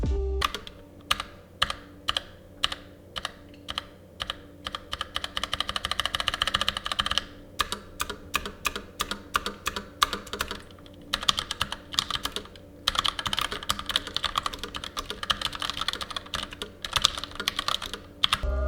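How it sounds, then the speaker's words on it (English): Rapid clacking of mechanical keyboard switches, steady bursts of typing with brief pauses, close and crisp throughout. "And speaking of typing on it, here's how they sound."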